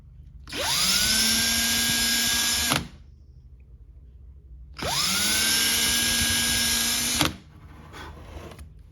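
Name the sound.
small drill bit drilling wood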